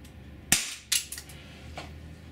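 A Walther PPS 4.5mm CO2 blowback airgun fires a few sharp, close snapping shots, two loud cracks followed by quieter ones within a couple of seconds.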